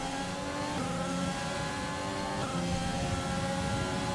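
An F1 2020 race car engine in the video game, a sustained high-pitched whine that climbs and dips in pitch, with wheelspin on the rear wheels. It runs loud and constant throughout.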